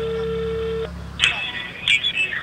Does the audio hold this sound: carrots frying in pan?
no